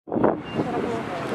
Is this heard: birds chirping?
no